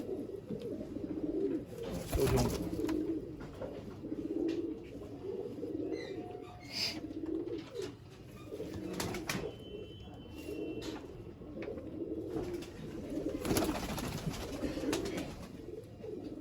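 Pigeons, including a male, coo in a loft in Jammu, with repeated low soft calls rising and falling over a steady murmur, joined by a few wing flutters and brief chirps.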